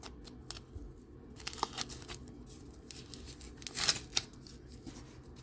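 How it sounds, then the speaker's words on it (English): Quiet snipping and tearing of a Dooney & Bourke handbag's packaging with scissors, scattered crisp cuts and crinkles, with a louder rustling burst near the end. "Gotta use the scissors again."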